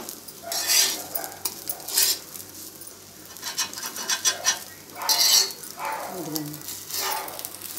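A knife cuts through a cooked bread omelette on a pan or board, making several sharp scraping clinks in separate bursts, fairly close, with a quiet background hum between strokes.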